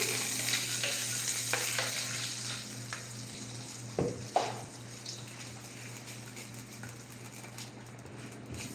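Mustard goes into a pot of black bean soup on a home stove, and a steady close sizzle and bubbling continue throughout, broken by a couple of brief clanks and stirring bumps near the middle. No one speaks.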